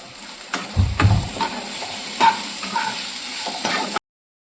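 Vegetarian fig curry being stirred in a pan in a village kitchen, with a low steady sizzle and a few scraping stirs and knocks of the spoon against the pan, close by.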